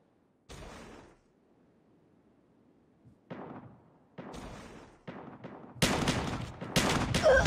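Sharp shotgun blasts ring out in an online shooter match, several separate bursts spaced irregularly, growing louder and denser toward the end, with no voices.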